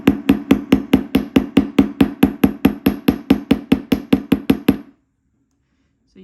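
A hammer strikes copper wire against a hard surface to flatten it for a bracelet, about twenty sharp, evenly spaced metallic knocks in a steady fast rhythm, loud and close, then silence.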